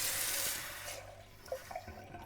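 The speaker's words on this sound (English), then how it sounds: "I'm going to get some tap water in this fresh cup." Tap water runs into a fresh cup in a loud, steady rush for about a second, then stops, leaving a few soft drips and small splashes.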